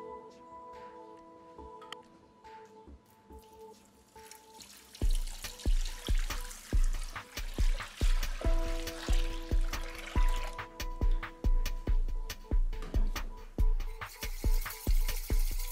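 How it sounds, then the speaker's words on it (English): Milk and water pour into a bowl holding yeast, sugar and salt for a Turkish breakfast dough, a steady liquid trickle and splash with rhythmic low thumps from about five seconds on, close and moderately loud. "add yeast, sugar, salt, milk and water and mix"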